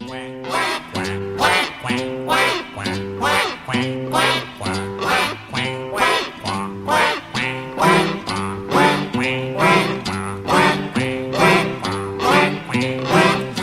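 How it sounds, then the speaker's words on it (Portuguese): A long, loud run of nasal duck quacks comes in a steady, almost musical rhythm, several each second, with nothing else heard. "Lá vem o pato para ver o que há."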